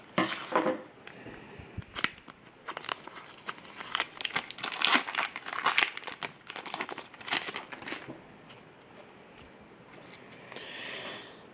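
Scissors snip and crinkle through the plastic wrapper of a 2013-14 Upper Deck Artifacts hockey card pack in quick, irregular bursts, close up, with no talking.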